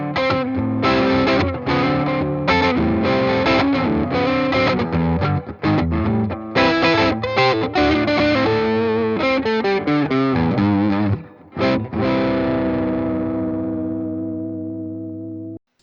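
An Epiphone Joe Bonamassa 1962 ES-335 electric guitar played through its neck pickup with distortion strums a run of chords and riffs, loud and close, ending on a sustained chord that rings out and fades.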